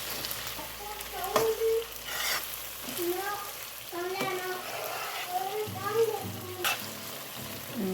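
Food sizzles and crackles in hot oil in a pan while a utensil scrapes and stirs in short strokes, with a voice talking quietly in the background.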